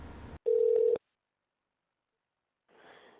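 Telephone line tones open a recorded call to a flight service station: a brief burst of noise, then a loud steady half-second tone that cuts off to silence, followed by faint line noise.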